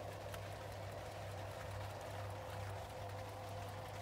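Heavy rain drums steadily on a boat with a soaked cockpit, a dense, even hiss over a low, constant hum that continues without a break.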